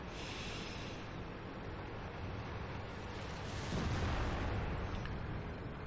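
Tank cannon fire and rumbling battle noise from a World of Tanks-style game at Sand River, with an IS-7 among the tanks; a dense, continuous roar swells slightly near the end with no distinct separate shots.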